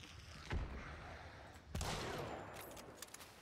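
Gunshots in a zombie shooter game, two sharp close reports about a second apart, followed by lighter crackling shots over a steady background rumble.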